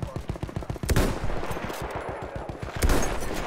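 Rifle fire in the World War I shooter Battlefield 1: loud sharp shots ring out near the start and again near the end, over dense, steady battlefield gunfire and rumble.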